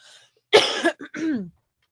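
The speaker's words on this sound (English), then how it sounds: "As I cough like a grandma" A single loud, harsh cough burst followed by a throaty rasping clearing sound, close and alone with no talking.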